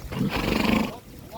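A horse ridden on a trotting track just after rain lets out a loud, close whinny that rises and then fades within about a second.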